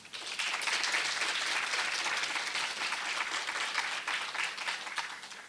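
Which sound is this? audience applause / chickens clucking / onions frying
audience applause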